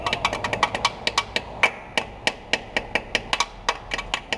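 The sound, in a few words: small hammer tapping off a part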